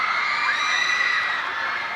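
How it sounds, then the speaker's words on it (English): A large crowd screams and cheers from the far side of a football stadium during a youth cup semi-final between Rangers and Kashiwa, a sustained high-pitched roar holding steady and loud throughout. "Screams go up on the far side."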